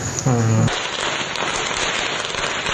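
Firecrackers burst in Indonesia during Ramadan, a short tonal squeal giving way to a dense, loud run of crackling pops that continues to the end.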